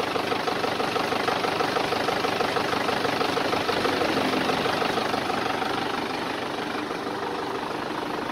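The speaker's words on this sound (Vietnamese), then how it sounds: "Để cho anh em nghe tiếng động cơ rất là ok nha." Iseki 527 tractor engine running steadily at idle, a continuous close rumbling drone with a slight fade toward the end and no talking.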